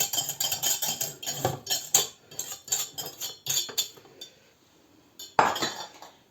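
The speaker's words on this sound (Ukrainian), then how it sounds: "Так, підмішуємо, розмішуємо перший раз." A spoon stirring sugar into stollen dough in a bowl for a Christmas poppy-seed loaf gives rapid clinking, scraping strokes that run for several seconds, pause into near silence, then return with one louder scrape.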